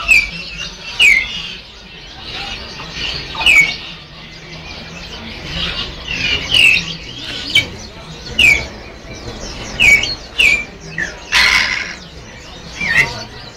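Many caged birds chirp and squawk in a busy Hong Kong bird garden on Yuen Po Street, with sharp repeated calls near and far over a murmuring background of crowd noise.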